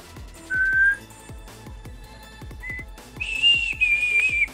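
Someone whistles a tune loudly in short bright phrases, some held and some sliding, over a backdrop of repeated sharp percussive clicks and taps.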